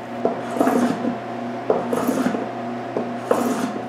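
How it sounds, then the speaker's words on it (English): A file or rasp chamfers the sharp edges of a wooden kitchen cupboard in close, loud back-and-forth strokes, arriving in three rhythmic bursts with brief pauses between them. "Then I chamfer all the sharp edges that need a chamfer."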